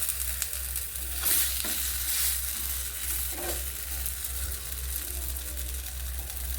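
A semolina paratha shallow-fries in a little oil on a low flame, producing a steady, moderate sizzle and crackle. A low hum runs underneath, and soft scraping sounds come from the paratha being turned.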